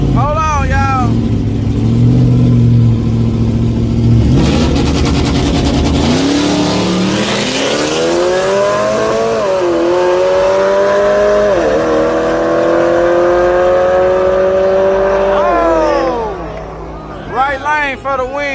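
Cars and trucks, including Mustangs, fast trucks and a Lamborghini, launch and accelerate hard at a drag strip on a Thursday night, one loud engine revving up and pulling away through rising gears over crowd chatter and nearby talk.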